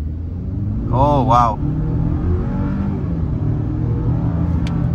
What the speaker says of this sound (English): we're in sport mode, off the line, on the gas.